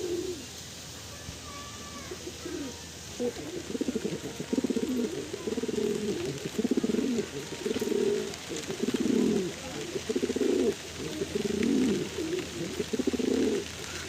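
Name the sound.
pigeons cooing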